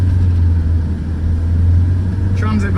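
A Ford Transit van driving, a steady low engine drone inside the cab, loud and continuous.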